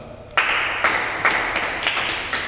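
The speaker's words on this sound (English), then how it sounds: "clap for Karanja" A small classroom audience claps for a student named Karanja during a business lesson, a brief scattered round of hand claps starting abruptly and continuing unevenly at moderate loudness.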